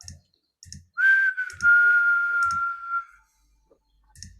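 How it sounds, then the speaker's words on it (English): A person whistles one sustained, slightly wavering tone for about two seconds, close and clear, while soft rhythmic clicks tick at regular intervals before and after. "Don't whistle. That makes you sound happy"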